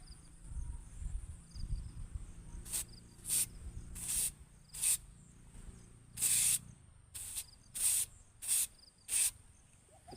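Spray bottle squirting liquid into empty 1.5 bottles to bait a fruit fly trap: a string of about ten sharp, bright hissing bursts, mostly short, one longer, over a low outdoor background rumble.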